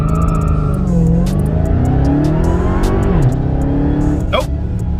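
A Dodge Hellcat on Nitto 555RII tires launches hard from a second-gear start, its engine revving loud and close as it climbs through rising pitch, dips briefly, then pulls again, with a short tire chirp near the end.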